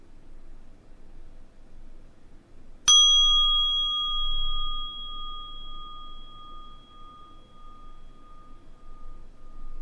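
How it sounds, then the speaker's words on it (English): A single strike on a small, sensitive meditation bell rings out sharply and loudly, then holds a long, pure, steadily fading tone over faint background hiss. "Forgive me if that bell was too loud. It's a very sensitive little bell."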